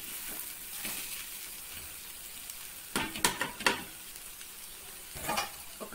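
Okra frying in a pan with salt, chili and turmeric, a soft steady sizzle broken by a few quick scraping stirs of a spatula against the pan.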